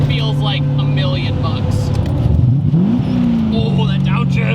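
Close, loud engine of an LS-swapped Nissan 300ZX Z31 drones steadily, then blips up in pitch during a downshift and settles into a higher hum, with a voice speaking over it.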